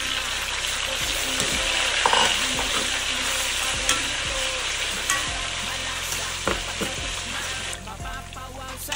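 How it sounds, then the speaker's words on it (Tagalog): Saba bananas and potatoes fry in a pan, a steady close sizzle with occasional stirring clatter of a utensil against the pan throughout. "Ipiprito ko muna yung aking saging na saba at saka patatas."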